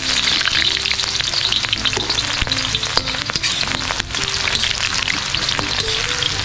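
Onion sautéing in a hot pan makes a loud, dense, continuous sizzle right up close, crackling like rain, broken by occasional clicks and scrapes of stirring.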